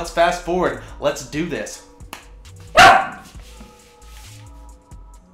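A dog barking in the background during a closet cleanup, a few brief barks under and between nearby talk.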